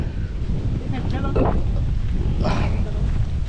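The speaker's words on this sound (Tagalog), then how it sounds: "Ay, alakas na naman ng hangin. Kita niyo yan, mga hangin." Strong wind roars and buffets the microphone continuously beside a fish pond, with brief voices speaking underneath the rushing noise.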